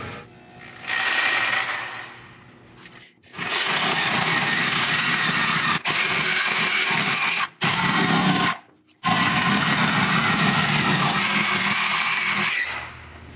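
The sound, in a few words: Sawzall reciprocating saw cutting welded metal on a limo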